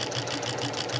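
A quilting sewing machine stitches gentle curves at a steady, even speed, its rapid rhythmic needle pulsing close and continuous for about a second.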